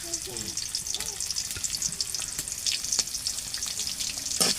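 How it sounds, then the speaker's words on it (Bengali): Chopped onion and garlic sizzle in hot oil in a wok, a steady crackling fry with bright spitting bursts and a few light clinks of a utensil stirring, close up with no talking. "কড়াইতে তেল দিয়ে দিছি তেলটা গরম হয়ে গেছে এখন পেঁয়াজ আর রসুন দিয়ে দিলাম"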